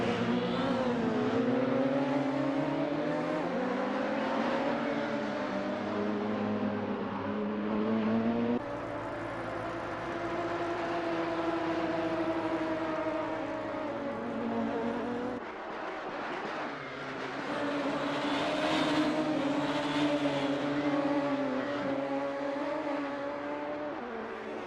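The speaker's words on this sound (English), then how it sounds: "Connor Smith going for a spin or two in his Radical SR3" A Radical SR3 race car circulates on a racing circuit, its engine droning and rising and falling in pitch through gear changes and revs, loud and continuous throughout.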